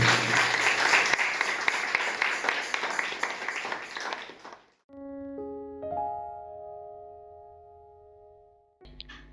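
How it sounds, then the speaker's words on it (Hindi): A church congregation claps loudly for several seconds in a dense, steady burst of applause, which then stops abruptly and gives way to sustained musical tones. "आइए एक जोरदार ताली केवल प्रभु यीशु मसीह के लिए।"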